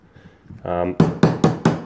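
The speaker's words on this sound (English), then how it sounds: "But tapping it will knock the head down a bit as well." A container of beer being tapped to settle its foaming head, four sharp, close knocks in a steady rhythm following a brief pouring or fizzing sound.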